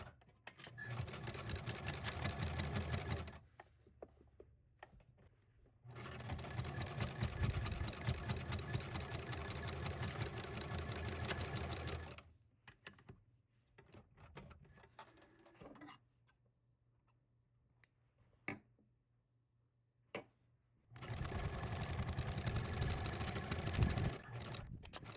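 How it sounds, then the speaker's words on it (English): A sewing machine stitches across a fabric basket in three long runs of steady, fast mechanical whirring, separated by quieter pauses with small handling sounds. "So now we're just going to take this to the machine and sew across these"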